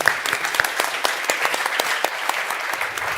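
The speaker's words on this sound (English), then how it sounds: "A big applause to our panelists." Applause from an audience for the panelists at a wind energy economy event, heard as scattered, distinct claps from a modest crowd in a short, uneven burst.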